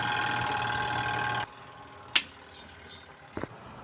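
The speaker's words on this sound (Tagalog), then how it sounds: "kung maririnig nyo ay umuugong lang ang kanyang dryer motor" Twin tub washing machine spin dryer motor hums steadily without spinning, a continuous close drone that cuts off abruptly partway, followed by a sharp click and a few faint knocks.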